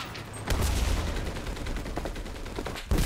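Close gunfire in Enlisted, a heavy burst of shots opening after a short pause, thinning into scattered rounds, then a final sharp report at the end.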